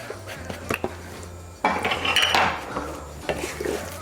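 A utensil stirs Parmesan cheese into warm spinach and artichoke dip in a cast iron skillet, producing close, repeated metallic scrapes and clinks, busier in the middle of the stretch.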